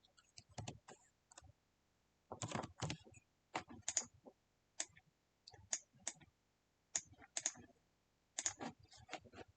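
Computer keyboard keys clatter in irregular bursts of quick clicks with short pauses between, close and fairly quiet, while someone codes in Scratch; no talking.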